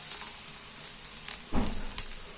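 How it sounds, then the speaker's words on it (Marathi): Spinach thalipeeth, a flattened Maharashtrian flatbread, laid onto a hot griddle and sizzling with a brief, sharp burst of frying noise over a steady faint hiss. "हे थालीपीठ आपण तव्यावर छान रुमालातनं टाकून घ्यायचंय."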